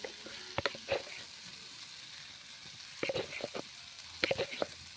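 Tomatoes with turmeric powder fry in a pan, giving a soft, continuous sizzle broken by a few short clusters of stirring scrapes, fairly close and quiet.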